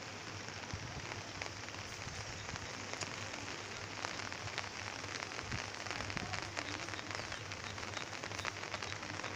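Heavy rain pours steadily over farm fields in a village, a dense, even hiss of drops with scattered sharper patters, moderately faint and continuous, with no voices.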